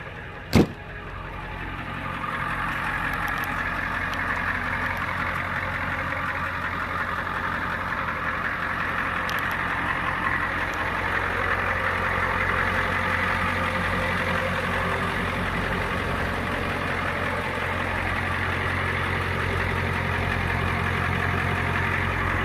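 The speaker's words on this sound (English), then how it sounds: "You guys can listen to the engine." A steady, low diesel engine rumble from a 1993 Ford F350 4x4 ambulance idles continuously, even and unchanging, after a brief click at the start.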